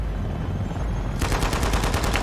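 Helicopter gunfire in the video game Shadow of the Tomb Raider, a rapid loud burst of machine-gun shots kicking in over a steady rumbling background and hammering on to the end.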